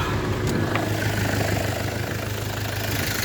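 A DTZ 5404K tractor engine pulling a plow in winter at minus 9, a steady low diesel drone with a throbbing knock, loud and continuous throughout, no talk.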